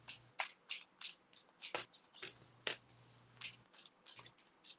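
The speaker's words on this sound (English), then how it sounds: "let me give it a proper shuffle here" Tarot cards are shuffled by hand in short, soft riffling bursts with brief pauses between them, close to the microphone in a quiet room.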